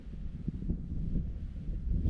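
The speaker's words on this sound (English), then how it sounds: "Super windy day, so there might be a stray leaf here or there." Strong gusty wind buffeting the microphone outdoors during spring yard cleanup, a continuous low rumbling roar that swells and eases with the gusts, with no voices.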